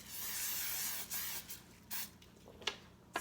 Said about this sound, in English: I'm using canola oil. I'm going to go ahead and lightly spray it.